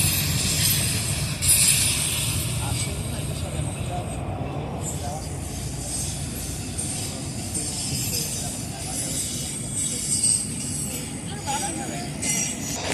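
A CSX auto rack freight train passes alongside at close range, a continuous low rumble and rolling wheel noise with faint squeals, heard as if from a vehicle pacing the train.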